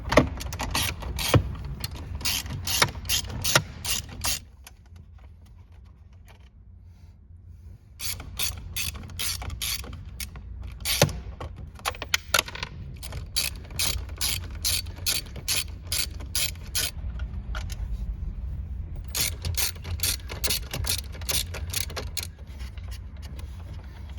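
A ratchet undoes 7 mm bolts on the dash of a 2005-2009 Ford Mustang, clicking in quick, close bursts of repeated strokes with short pauses between runs.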